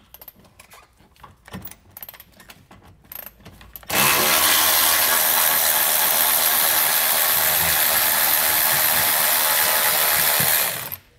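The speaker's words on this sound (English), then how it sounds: "we'll still need to remove the exhaust hanger bolt, this one right here" Ratchet loosening an exhaust hanger bolt beneath a car, beginning with scattered clicks and clunks, then a loud, sustained, rapid buzzing ratchet run lasting about seven seconds before stopping abruptly.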